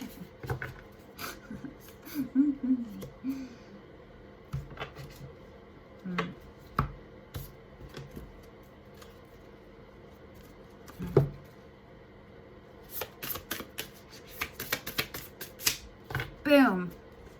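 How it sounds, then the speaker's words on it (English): A deck of cards being shuffled by hand, with scattered soft flicks and riffles, a dense cluster near the end, and a person speaking intermittently between them. "I just gotta help it along with the shuffling so they don't stick together"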